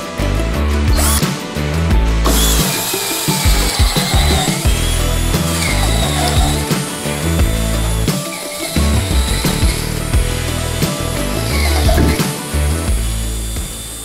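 A WORX cordless drill bores with its largest bit, a loud continuous whirring grind that shifts in pitch as it loads and eases, close up throughout.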